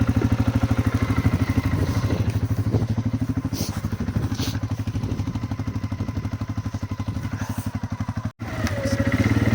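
A CF Moto 400 ATV engine running close by, a loud, even, rapid putter that continues steadily with a brief dropout near the end and some clatter over it.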